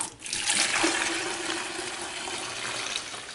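Sweet tea pours steadily into a pitcher, a continuous splashing liquid stream lasting several seconds with no talking.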